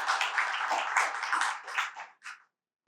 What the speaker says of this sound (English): Let's welcome Manish with a big round of applause.